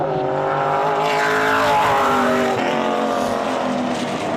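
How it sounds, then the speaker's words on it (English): Race cars on slick tires during time trials at Hythe Motor Speedway roar past loudly, engine pitch rising and dropping as they pass close by, with a steady crowd-and-track din behind. "These cars with the slick tires, they'll get 2 warm-up laps before they go green."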